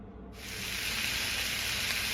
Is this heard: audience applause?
no